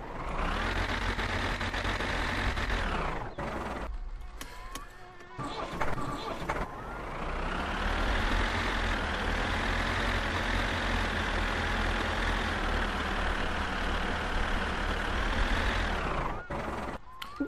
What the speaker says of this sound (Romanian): De ce mori, căcat de tractor?